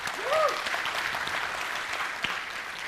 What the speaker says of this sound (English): can we have a round of applause for all the community here?